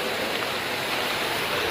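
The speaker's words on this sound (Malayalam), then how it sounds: "മുത്തങ്ങ ചെക്ക് പോസ്റ്റിനടുത്ത് നിന്ന് മന്മഥം മൂലയിലേക്ക് പോകുന്ന റോഡിന് മുകളിലൂടെയാണ് വെള്ളം ഒഴുകുന്നത്" Floodwater from the overflowing Kallur river rushes across a road near the Muthanga check post in Wayanad during heavy rain, a steady loud broadband roar with no break.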